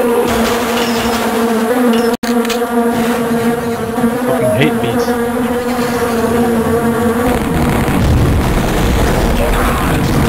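Bees buzzing in the Shadow Warrior video game, a dense, steady droning swarm that fills the whole stretch, with brief game noises and a sharp dropout near the start.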